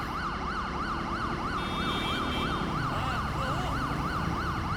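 Emergency vehicle sirens in the GTA 5 video game wailing in a fast repeating up-and-down cycle, a second higher siren joining partway, loud and continuous over low traffic rumble, no talking.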